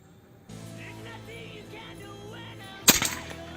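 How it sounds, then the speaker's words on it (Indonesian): A single sharp shot from a Satsus P1000 air rifle cracks out loud and close, with a brief decaying tail after it, against a steady low hum at an outdoor hunting test. "Tembakan yang kedua untuk Bapak Denny Lim"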